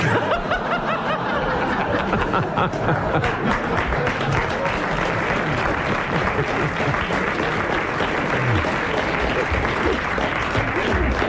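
A theatre audience applauds steadily for several seconds at a live show, with a dense wash of clapping and scattered chuckles mixed in.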